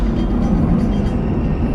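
A train passes in a Christopher Nolan film scene, heard as a loud, dense, low rumble of rolling wheels and clattering carriages that fills the whole moment.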